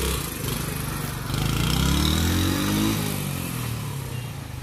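A motorcycle engine drones steadily nearby, rising slightly in pitch as it revs and then settling, with no talk over it.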